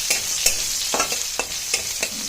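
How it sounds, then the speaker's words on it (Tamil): Crushed peeled garlic and curry leaves sauté in a hot pan, a steady close sizzle broken by several sharp scraping stirs at a regular pace, with no talking. "லைட்டாக பூண்டை உரித்து தட்டி ஆட் பண்ணிக்கோங்க."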